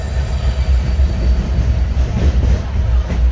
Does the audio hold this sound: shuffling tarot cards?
no